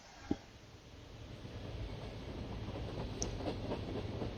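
Train rolling along rails in an indie video game, a low rumbling clatter that starts quietly after a sharp click and swells into a steady, faint, continuous rolling noise.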